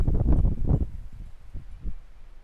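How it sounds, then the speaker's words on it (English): Wind gusts outdoors during a yoga session, with a strong rush of low buffeting and rustling at the start, then weaker rumbling puffs that fade and return. "Nice gust of wind here."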